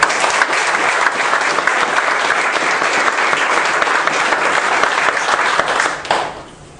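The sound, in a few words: applause for four young award winners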